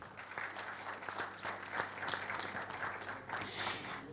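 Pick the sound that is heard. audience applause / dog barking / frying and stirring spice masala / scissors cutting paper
audience applause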